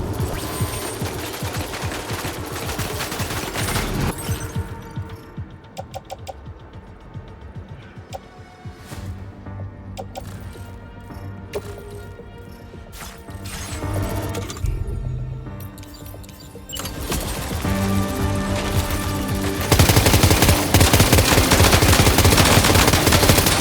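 Heavy gunfire rattles through a Death Stranding 2: On the Beach firefight, with dense loud bursts of shots and a thinner run of sparse cracks midway before the barrage swells again, with no talk.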